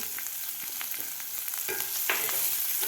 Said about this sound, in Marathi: कांदा आपल्याला एक मिनिटभर परतून घ्यायचा आहे